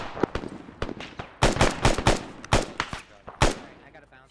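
Bursts of rifle and machine-gun fire aimed at a vehicle in the military shooter ArmA 3, loud and close, in rapid clustered volleys with short gaps between them and faint radio voices in the background.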